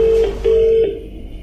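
Telephone dialing tones: two or three short, loud, steady keypad beeps in quick succession, then fading background noise.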